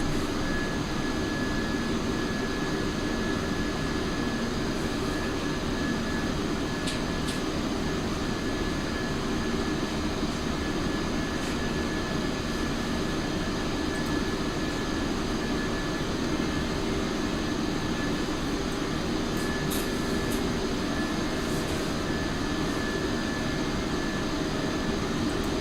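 Inside an Airbus A319 climbing out of Heathrow, a steady, loud broadband roar of jet engines and airflow fills the cabin without a break, with faint clicks and no speech.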